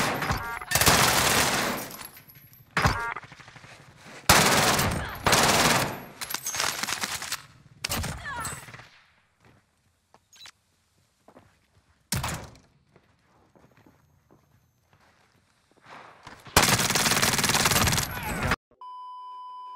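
Several loud bursts of AK47 automatic fire in Warzone, coming in separate clusters with quiet gaps, brief thuds and faint beeps between them, and no talking.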